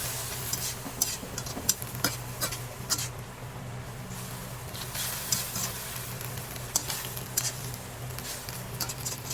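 Kangkong (water spinach) cooks in a pan with water and salt, giving a soft steady sizzle with scattered stirring clicks and scrapes, close and fairly quiet, no talking.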